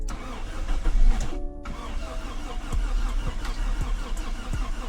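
A car engine cranks without catching, its starter labouring as if on a weak battery, a steady rumbling drone with rhythmic low thumps through most of the stretch and a brief quiet gap near the start.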